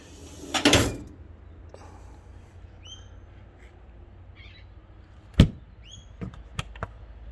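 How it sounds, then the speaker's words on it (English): The cutlery drawer in the outdoor kitchen slide of a 2021 Star Vision PX2 caravan opens and shuts, giving two separate thuds several seconds apart, followed by small clicks, with faint bird calls in the quiet background. "cutlery drawer"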